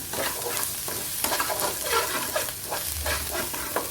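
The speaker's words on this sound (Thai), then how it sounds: "ผัดพริกแกงนะคะ กับน้ำตาลทรายก่อนนะ" Thai curry paste stirred and fried with granulated sugar in a pan gives a steady close sizzle throughout, with scraping stirs from a utensil and no voices.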